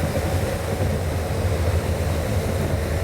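A 2022 Honda Africa Twin motorcycle engine holds a steady, loud drone at fairly high revs while riding, with constant low rumble and wind noise and no talk over it.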